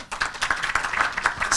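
A short burst of applause at a mayoral candidates' forum, many hands clapping in a quick, dense patter from a nearby crowd.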